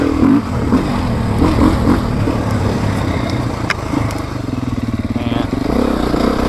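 A 2024 Beta 390RS four-stroke motorcycle lumbers along in second gear with a low, throbbing engine pulse and occasional clatter, loud and close, with someone talking over it.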